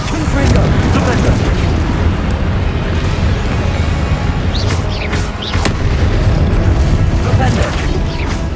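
A Confringo blast spell in Hogwarts Legacy gameplay lands as heavy booming explosions over a dense, loud mix of rumbling effects and crackles, with a voice calling out the spell during the combat.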